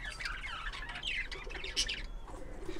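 Fancy pigeons on a farm give soft cooing and chirping calls over a steady background hum, with several birds calling at once and no talk.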